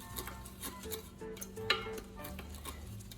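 A wooden spoon stirs dalgona coffee mixture in a bowl, giving soft, repeated scraping and tapping strokes close by, fairly quiet, with one brighter clink midway and no talking.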